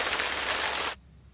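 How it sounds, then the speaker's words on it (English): Broadband hiss of rain beginning to fall outdoors after thunder, loud and steady for about a second before cutting off abruptly. "And now it's starting to rain."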